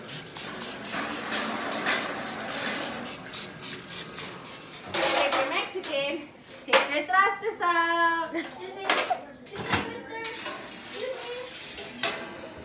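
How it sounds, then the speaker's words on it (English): Short bursts of aerosol spray hiss in a rapid series, followed by someone talking and light kitchen clatter. "now you're gonna spray some Pam or some butter"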